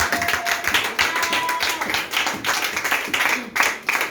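Congregation at a worship service clapping to acclaim the Lord, a series of loud, uneven bursts of handclaps from several people, continuing throughout.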